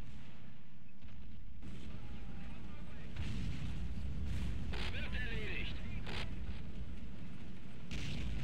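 Land Mattress rocket artillery explosions in Men of War: Assault Squad 2 rumble as a heavy, continuous barrage with recurring booms and crackling blasts, loud throughout and partly under a talking voice.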